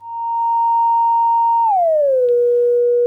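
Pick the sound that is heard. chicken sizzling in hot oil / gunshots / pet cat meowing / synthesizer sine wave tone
synthesizer sine wave tone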